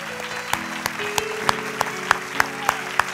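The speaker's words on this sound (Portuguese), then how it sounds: "essas palmas que vocês ouviram agora" A church congregation at a Sunday service claps in a steady, regular rhythm, with sustained musical tones underneath as the beat continues.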